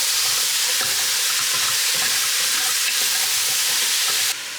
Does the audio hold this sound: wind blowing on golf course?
no